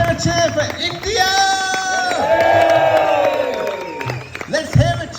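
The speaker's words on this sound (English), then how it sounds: "Let's hear a cheer for India!" A crowd of rickshaw travellers on an adventure rally through India roars and whoops in a loud, sustained cheer that swells and then fades, with shouted voices close by.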